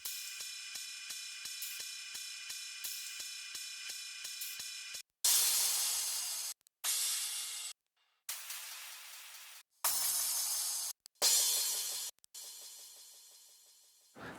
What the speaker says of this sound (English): I have my 4 crashes all layered up